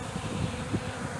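A soft, steady buzzing of bees hovering close by a large syrup feeder, a continuous drone with slight wavering in pitch.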